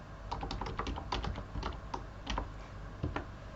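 Fingers tap out login credentials on a computer keyboard, a quick irregular patter of close, crisp keystrokes with small pauses between bursts and no voices.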